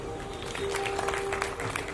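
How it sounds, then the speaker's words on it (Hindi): An audience at a Hindi spiritual discourse claps together, a steady wash of applause that is continuous and fairly loud for its short length, with a faint sustained tone underneath. "एक बार अपने लिए ताली बजाएं।"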